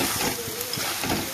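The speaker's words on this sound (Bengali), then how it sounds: "এখানে আমি মাছগুলো দিয়ে দিয়েছি, দিয়ে একটু ভালো করে নাড়িয়ে সারিয়ে" Fish frying in oil in a pan while being stirred: a steady close sizzle with scraping stir strokes, no talk, brief.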